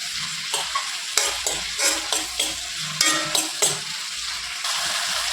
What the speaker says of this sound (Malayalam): അതും കൂടെ ഇട്ട് കൊടുത്തതിന് ശേഷം വഴറ്റിയെടുക്കാം.